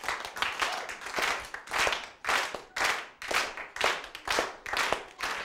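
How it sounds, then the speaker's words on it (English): An audience at a live comedy show gives a slow clap: about ten loud, evenly spaced group claps in a steady rhythm, each ringing briefly before the next. "give me a little look at slow clap."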